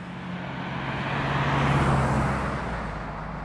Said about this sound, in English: Cars are coming.